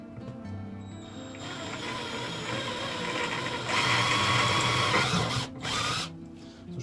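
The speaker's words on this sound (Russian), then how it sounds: "никогда бы не подумал, что шуруповертом так удобно работать" A cordless screwdriver drills into the frame of a DIY electric cart, making a continuous mechanical whir and grind that grows louder midway, briefly cuts out, then resumes.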